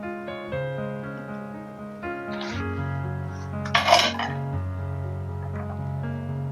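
Cinnamon is dropped into a lightly heated pan on a gas stove for dry roasting biryani masala spices, giving a couple of short metallic clinks and clatters beneath steady background music.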